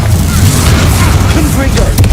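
Bombarda spell explosion from the Hogwarts Legacy video game, heard as a dense, continuous low booming rumble with crackling bursts for about two seconds, loud and close.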